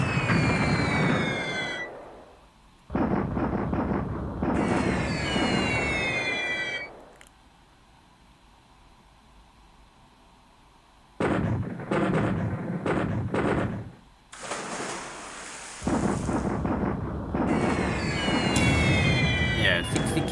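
Air-raid bombing in the naval wargame War in the Pacific: Admiral's Edition, heard as repeated loud bursts of rumbling explosions with whistling, siren-like sweeps, broken by several quiet gaps, with no talk.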